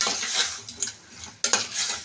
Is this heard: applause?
no